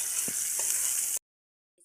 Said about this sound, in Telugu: టమాటా తొక్కులకు తాలింపుకు మరిస్తున్నా.